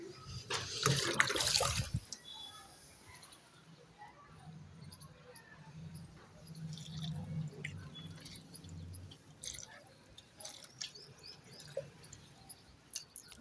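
Water is poured onto garden plants in a village onion bed: a loud splashing gush for about two seconds, then faint scattered trickles and drips with soft voices in the background.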